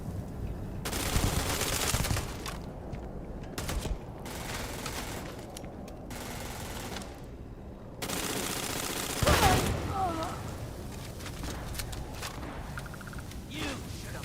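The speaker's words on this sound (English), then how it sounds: "Shooting for the sake of shooting at the moment." Gunfire in the Starfield video game: repeated loud bursts of rapid automatic shots in several long volleys separated by brief quieter gaps, with heavier impacts and sharp cracks near the middle.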